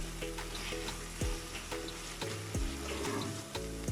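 Potato and calabash curry sizzles steadily in a pot while a spoon stirs it, with several distinct scraping clunks against the pot over a continuous close frying hiss.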